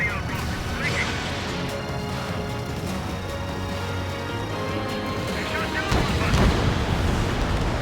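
An enemy bomber blows up after being shot down in the Ace Combat 7 air-combat game, a dense roaring blast that holds across the clip and swells near the end, with radio chatter layered over it.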